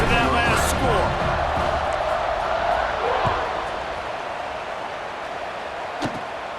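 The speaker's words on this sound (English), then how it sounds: "this crowd is buzzing after that last score" Stadium crowd at a Colorado football game, a broad steady roar that swells loud then settles lower, with a sharp thump near the end.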